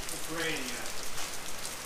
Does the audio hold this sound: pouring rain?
yes